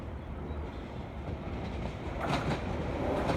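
A London Overground Class 378 electric train runs past on the North London line, a steady rumbling roar of wheels on rail that swells louder toward the end.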